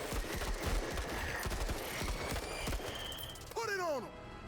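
Squad gunfire in the Menace tactical game: a rapid string of sharp, close shots in an uneven burst, with a few voices and a rising electronic tone near the end.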